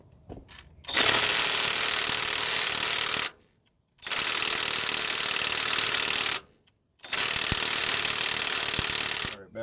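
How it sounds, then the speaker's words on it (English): A 3/8-inch right angle impact wrench hammers at a front brake bolt on a 2004 Nissan Sentra 1.8 in three loud, sustained bursts separated by short pauses, close up with no talking. "let's see if our right angle impact will take this off"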